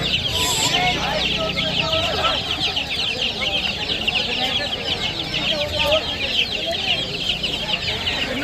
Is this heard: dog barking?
no